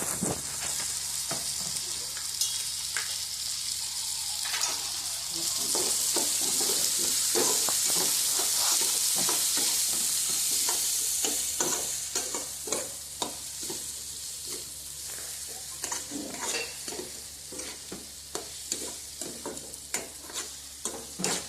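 Ridge gourd curry (turiya nu shak) with chili powder stirred in oil in a pan: steady sizzling frying with repeated scraping stirs throughout, loud and close, no talking.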